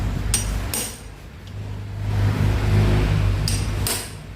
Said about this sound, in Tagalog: Kapag wala kayong impact wrench, ang gagawin nyo, pagpukin nyo lang ulit.